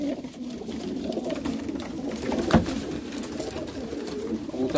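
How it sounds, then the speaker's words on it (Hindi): Green-necked pigeons, Teddy golden and dub birds kept for sale, coo softly and continuously nearby in a dense murmuring chorus, with no talk over them. "कबूतर सारे ही हरी गर्दन के कबूतर है भाई"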